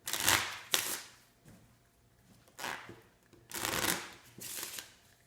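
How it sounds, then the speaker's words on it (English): Playing cards are shuffled during a magic card trick in several quick riffling bursts with short pauses between them, close up and crisp against a quiet background. "Let's shuffle the cards."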